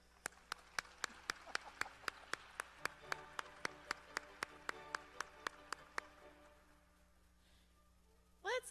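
Measured, evenly spaced claps, roughly twenty in a steady rhythm, ring out faintly in a quiet hall at a university service recognition ceremony, then stop, leaving near silence before a brief sound at the very end.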